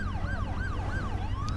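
Ambulance siren from the Driver: San Francisco video game, a loud wailing siren rising and falling in repeated sweeps, close and continuous with no talk.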